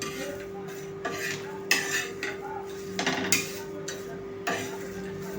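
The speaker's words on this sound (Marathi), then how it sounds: "आता हा कढीपत्ता कोरडाच भाजायचा आहे आणि लसूण पण।" Curry leaves and garlic are dry roasted in a pan for coconut chutney, with a spoon scraping and clinking against the metal in irregular strokes over a faint, steady hum.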